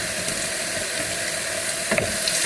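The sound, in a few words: shrimp frying in a pan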